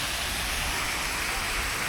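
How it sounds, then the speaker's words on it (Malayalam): Water falling down the steps of a fountain in Armenia, a continuous close splashing rush, steady and fairly loud with no breaks. "ഇവിടെ നിന്നൊക്കെ ഇങ്ങനെ ഫൗണ്ടെയിൻ പോലെയുണ്ട്, വെള്ളം വീഴുന്ന"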